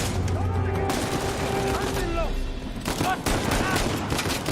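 Rapid gunfire in the video game Uncharted, with dense bursts of shots and sharp cracks over a busy game soundscape, loud and continuous, with voices talking over the action.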